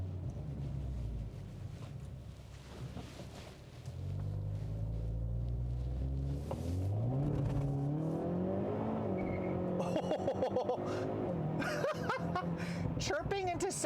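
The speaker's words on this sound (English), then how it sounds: "Chirping into second gear on a dual clutch" A 2021 Hyundai Veloster N with a dual-clutch transmission accelerates hard, engine note climbing through the revs before a sharp upshift chirp into second gear and continued pull, with voices heard underneath.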